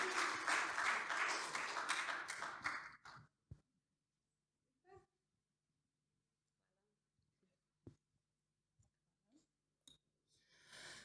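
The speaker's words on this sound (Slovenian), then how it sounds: "En velik aplavz." A large audience at a Slovenian adult-education health seminar gives a dense burst of applause lasting about three seconds, fairly loud, then it drops off into near silence with a few scattered faint knocks and clicks.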